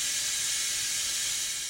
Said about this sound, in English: maybe fake an alligator hissing.